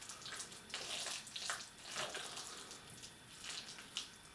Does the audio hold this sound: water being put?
yes